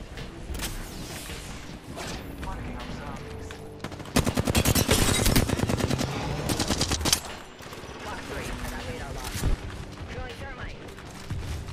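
Gunfire in an Apex Legends ranked match comes in rapid automatic bursts, with a long loud rattling volley in the middle and scattered shots before and after. It sounds fairly close, with game sounds around it.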